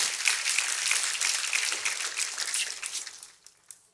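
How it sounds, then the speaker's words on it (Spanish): A church congregation applauds during a Spanish-language Sunday service, a dense, steady wash of many hands clapping together that thins out and fades toward the end. "Dele fuerte ese aplauso al Señor"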